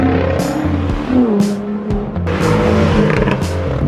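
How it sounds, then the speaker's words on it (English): A McLaren 650S sports car drives by on Rodeo Drive, its engine a loud, steady roar that rises and shifts in pitch as it passes close, with a brief tire-squeal edge. "Beautiful McLaren 650S."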